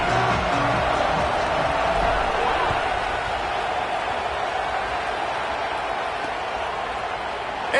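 A stadium crowd cheers steadily at kickoff in a college football video game, Houston Cougars against Georgia Southern, with a broad sustained roar that a commentator's voice partly covers.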